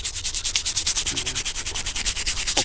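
A dug-up German WWII military object scraped by hand in quick, regular back-and-forth rubbing strokes, close and loud, with a steady rhythmic rasp and no talk.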